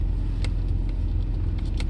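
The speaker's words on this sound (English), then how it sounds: "I just made a video on the noise in this car" A 2010 BMW 328i driving at 15 to 20 mph gives a loud, steady low road and engine rumble inside the cabin, with faint intermittent ticking or rattling clicks over it.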